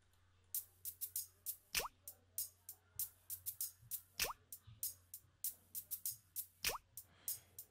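A contemporary gospel beat loop built in FL Studio: a steady, fast pattern of short plucky, plopping hits, with a few rising drip-like swoops spaced across it. No voices are heard.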